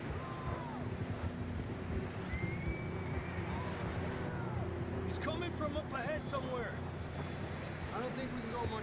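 A horse in the video game Red Dead Redemption 2 whinnies amid a steady rumble of hooves and ambient game sound, with voices talking over it.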